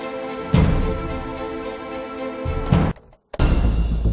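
Dramatic World of Tanks battle music plays with sustained tones and heavy low hits, cutting out briefly near the end before resuming.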